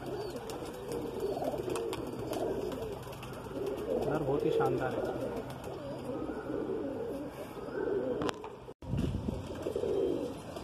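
Madrasi pigeons, some cross-bred, coo steadily in a cluster nearby while someone talks over them throughout.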